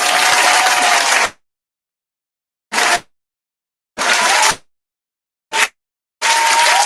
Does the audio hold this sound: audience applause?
yes